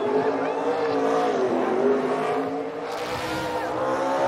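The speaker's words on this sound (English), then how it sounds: "He's got the classic old school donut somewhere in there." A NASCAR stock car does a burnout donut at Phoenix Raceway, its engine roaring at high revs with squealing, smoking tires in a continuous loud blare, while a voice talks over it.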